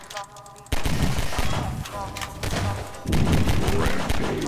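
Video game gunfire from a Half-Life 2 Deathmatch match crackles in rapid bursts, loud and dense, with a short quiet start before the shooting kicks in and continues steadily.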